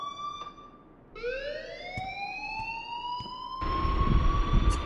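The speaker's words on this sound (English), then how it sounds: "please turn off that alarm" In the Life is Strange game, an alarm siren winds upward in pitch and then holds a loud, steady wail, with a short break near the start and a brief thump partway through.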